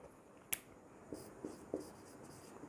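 Writing on a board during a lesson: faint, sparse scratchy strokes and light taps, a sharp one early and a few softer ones later, in a quiet room with no talking.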